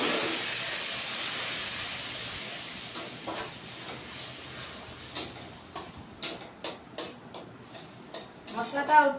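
Spice paste with Kashmiri chilli powder sizzling in a pan after a splash of water, a soft steady hiss broken by a run of sharp crackles and pops that grow busier toward the end.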